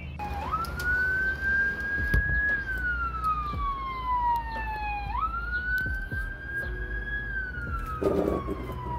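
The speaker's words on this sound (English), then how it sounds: "it seems like there is an ambulance" An ambulance siren wails past, its pitch sweeping up and down in long, steady cycles over a low rumble of traffic, loud and close throughout.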